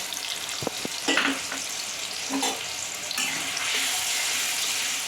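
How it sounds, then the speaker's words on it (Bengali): Small potato pieces frying in oil give a steady sizzle that thickens into a louder, fuller hiss, with a few early clinks of utensils in the pan. "এগুলোকে আমি একদম লাল লাল করে ভেজে আলাদা করে তুলে রাখবো"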